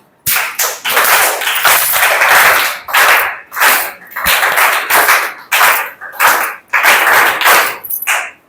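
Children clapping together in a classroom, several bursts of claps in quick rhythmic runs separated by brief pauses, loud and close with no talk over them.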